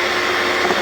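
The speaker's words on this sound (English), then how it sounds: "Add a little bit of sugar at a time and just whisk it in." Eggs are whisked while sugar is added, a continuous loud whirring from an electric mixer with no pauses across the short moment.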